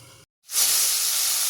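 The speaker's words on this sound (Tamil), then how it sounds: "எண்ணெய் சூடணுன்னு கடுகு அப்படியே பொரியும்." A sudden loud, steady hiss and crackle of mustard seeds hitting hot oil, starting after a brief silence and continuing strongly without voices.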